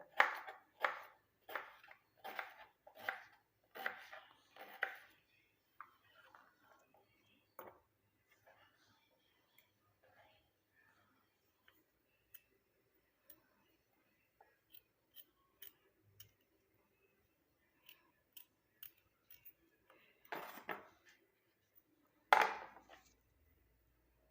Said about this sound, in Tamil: இது வந்து நம்ம குட்டி குட்டி பீஸாக வந்து கட் பண்ணிக்கோங்க